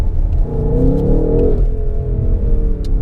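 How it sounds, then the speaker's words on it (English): A BMW M850i xDrive Coupe driving through New York City, its engine a steady, loud rumble with harmonic tones rising and falling in the first half as it accelerates, then settling into a continuous drone. "This car really sounds absolutely phenomenally great."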